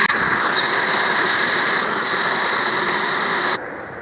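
Air hisses out of a deflating tyre in a loud, steady, high stream for about three and a half seconds, then cuts off abruptly to a faint residual hiss.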